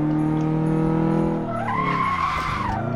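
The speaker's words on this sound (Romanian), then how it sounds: "Deci aici dau accelerația." A race car in a video game accelerates hard, its engine note climbing steadily as the tires squeal and skid loudly, a continuous close sound with no talking.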